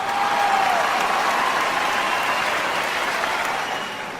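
Enthusiastic applause from a large outdoor rally crowd of several thousand people, a dense steady roar of clapping that holds for several seconds and then tapers slightly.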